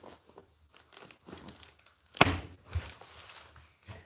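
A knife slicing open the packaging around a set of abrasive sanding belts, with soft crinkling of plastic and a sharp tearing burst midway, followed by a smaller crunch, close and fairly quiet.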